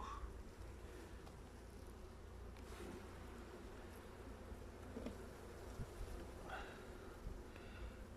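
A dense, continuous buzz of many honeybees in an opened hive fills the air up close, a steady humming swarm with occasional faint knocks in the background.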